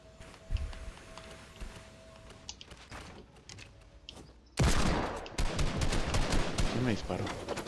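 A burst of rapid gunfire in Fortnite erupts loudly after a few scattered shots, continuing as a dense, crackling barrage.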